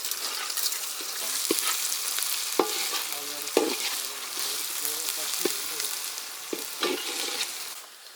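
Onions are sautéed and stirred in a pan for a village-style chicken curry, giving a continuous close sizzle broken by repeated scraping clacks of the spoon against the pan.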